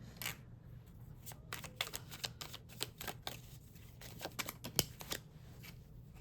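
A fresh tarot deck is shuffled in close, brisk bursts of papery snaps and flicks, fairly soft and continuous over a low background hum, with no talking.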